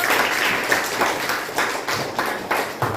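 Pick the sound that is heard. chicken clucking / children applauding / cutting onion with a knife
children applauding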